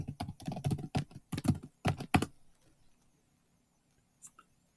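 Quick, uneven bursts of typing on a computer keyboard clatter close up for about two seconds, then fade to near silence with a couple of faint stray clicks afterward.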